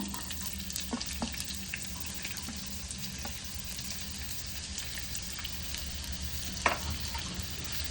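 Finely chopped onion frying in a pan for instant rava aappe, a steady low sizzle with occasional clinks of a utensil and one sharper knock near the end, no speech.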